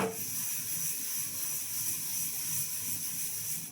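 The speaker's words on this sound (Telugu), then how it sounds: "పెసరపప్పు మంచిగా వేయించుకోవాలమ్మా, దూరగా వేయించుకోవాలి." Moong dal dry-roasting in a pan for a greens and lentil curry gives a steady, even hiss with faint crackle, constant from start to end with no voices.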